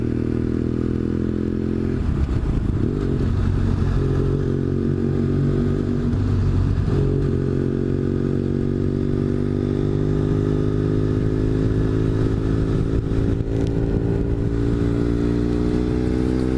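A vehicle drives onto a freeway with a loud, steady engine drone whose pitch climbs gradually as it accelerates, mixed with road noise and rattles from inside the cab.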